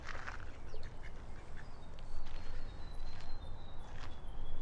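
Ducks quack in a park, several short calls clustered near the start and scattered afterward, fairly faint over outdoor background noise, with no one talking.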